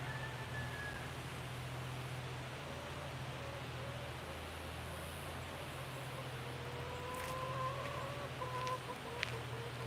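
Chickens in a backyard legacy flock on an Arkansas homestead cluck softly and intermittently over a steady low background hum, the calls moderately close but quiet.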